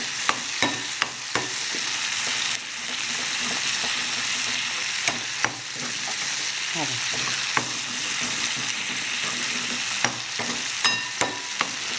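A vegetable roasts in a pan with a steady, fairly loud frying sizzle throughout, punctuated by sharp spatter pops and occasional stirring scrapes, heard up close.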